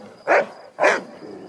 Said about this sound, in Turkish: Köpekler aç.